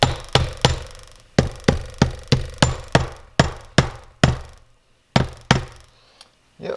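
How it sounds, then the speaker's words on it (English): A plastic hammer taps dowel pins into place on a Yamaha YZ125 two-stroke cylinder during a top-end rebuild, a series of sharp close knocks in quick, fairly even groups with brief pauses, no talking between them. "But a light tap with the plastic hammer should do the trick."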